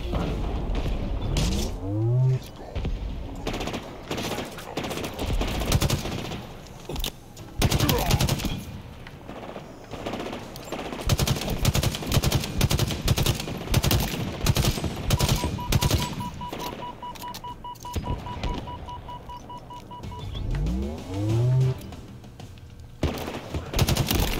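Automatic weapon fire rattles through a Halo Infinite match in rapid, dense bursts, with booming impacts and mechanical clatter layered over continuous game noise.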